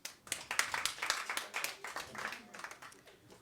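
A comedy club audience claps in a scattered, brisk burst of applause, fairly faint and steady throughout with no one speaking over it.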